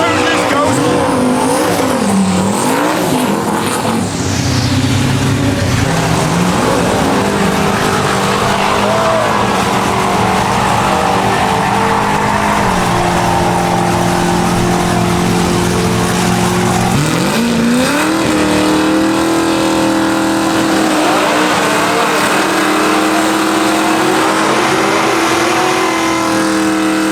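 A Cadillac sedan and a Mopar Charger sedan drag racing at TX2K roar loudly up close, with engines revving, climbing through gears and tires squealing. Voices and crowd noise sit underneath.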